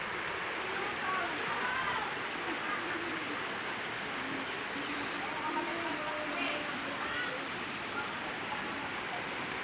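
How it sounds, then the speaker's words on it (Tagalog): A creek at Canyupay flows with a soft, steady broadband rush of water, fairly faint and even from start to finish, with no voices over it. "Ito ang sapa. Yan ang sapa namin."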